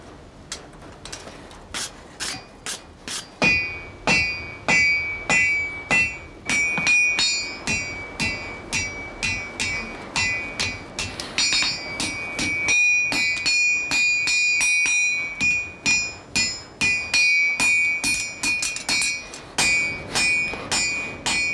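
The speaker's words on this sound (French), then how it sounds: "Respect du feu, respect du fer, respect du coup de marteau." Blacksmith's hammer strikes on hot iron during winter horseshoeing in the Vosges forest: a long series of loud, ringing metallic blows in steady bursts, some clustered in quick rhythms, with the anvil's resonant ring sustained between strikes and no talk.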